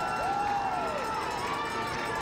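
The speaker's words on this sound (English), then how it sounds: "And I can actually hear the crowd at Coffee County." Crowd noise at a Coffee County High School homecoming football game, a distant, steady roar of cheering voices with a brief rising whistle-like tone, heard alone without nearby talk.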